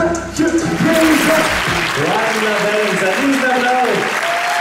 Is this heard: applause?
yes